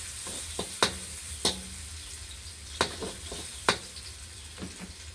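Garlic frying in oil in a pan for a Thai curry of sweet leaf greens, mushrooms and glass noodles, with a steady close sizzle broken by several sharp clicks and scrapes of a utensil against the pan.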